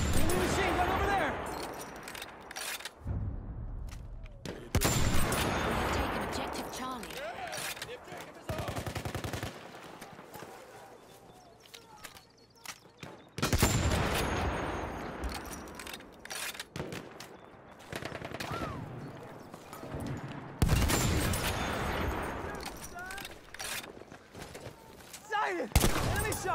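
Machine gun fire in a war video game, bursts of rapid automatic shots arriving in loud clusters with pauses between, mixed with shouted voices and battle noise.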